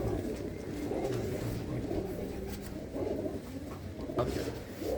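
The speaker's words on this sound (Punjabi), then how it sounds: "ਇਹ ਕਬੂਤਰ ਆ ਜੀ ਕਬੂਤਰ ਆ" A pet pigeon, a red Cheena with white eyes, coos in low repeated throaty phrases close by, over a busy, noisy background with no clear talk.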